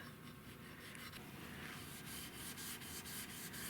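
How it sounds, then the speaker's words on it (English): Gray Scotch-Brite pad scuffing the first coat of finish on a Winchester 1876 rifle stock, a steady close abrasive rubbing with repeated back-and-forth strokes and no voices. "This is the first sanding, scuffing after the first coat, and the reason that I use gray Scotch-Brite"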